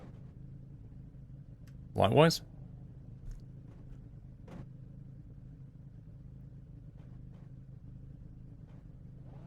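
Skip Barber race car engine in the iRacing sim: one brief, loud revving burst that climbs in pitch and quickly dies away, then a low steady background hum, with a single short spoken word later.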